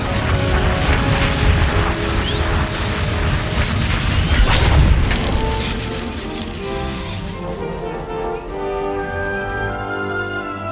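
A neutralizer being destroyed in the sci-fi game SWTOR: a loud, dense rumbling crash with scattered debris that swells for about five seconds, then eases into a quieter lingering hum with no voices.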